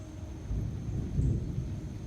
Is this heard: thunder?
yes